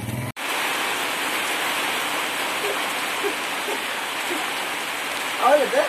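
Heavy rain pours steadily and close by, a dense continuous hiss that runs throughout after a brief cut at the start, with faint voices underneath near the end.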